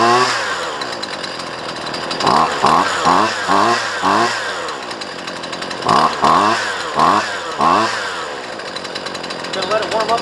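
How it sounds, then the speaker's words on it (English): Husqvarna 128LD chainsaw with the choke off, suffering from bogging and not revving up. The engine starts and runs close by in a choppy, pulsing rhythm, rising and falling in short revving bursts that settle into an uneven idle. "Let's see if it fires up with choke off first."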